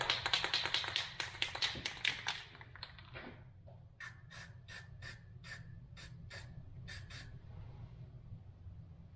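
Fire red spray paint hisses steadily from a can for about two seconds, followed by a run of sharp, evenly spaced taps, close by and with no talking.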